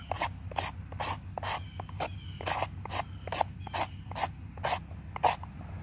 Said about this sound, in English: I take my knife on a 90-degree edge and a 90-degree angle and just scrape.